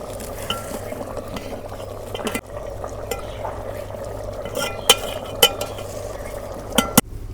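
Beef khichuri cooking in a pot, a low steady bubbling sizzle under sharp metallic scrapes and clinks of a spoon being stirred, close and without talk.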